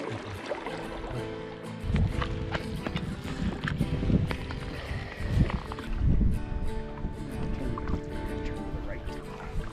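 A canoe pulls in to a rocky, tree-lined shore in the Nova Scotia wilds, with steady water sloshing and paddle splashes close by and voices talking over it throughout.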